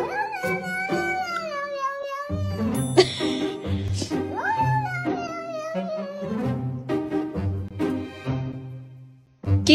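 A cat gives a series of drawn-out, rising and falling meows, mixed with soft chimes and low thumping sounds under a calm voice.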